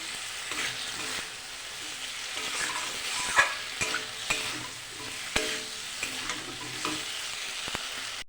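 Potatoes and aubergine stir-frying together in a pan, a steady close sizzle broken by scraping spatula strokes and soft clatters at irregular intervals, with no talking.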